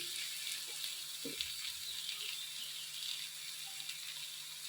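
Ivy gourd frying in a pan for thondekayi palya gives a constant bright hiss of oil, with a few soft knocks as tomato goes in.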